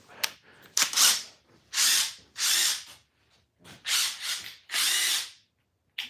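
An impact wrench, somewhat bound up, fires in repeated loud bursts of rattling hammering, stopping and starting several times at close range.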